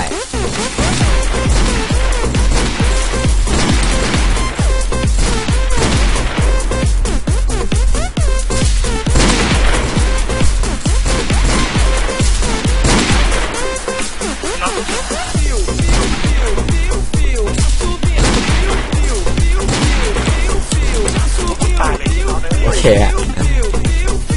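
Pistol gunfire in the MTA video game, rapid repeated cracks and bangs throughout, dense and loud, mixed with game noise and occasional voices.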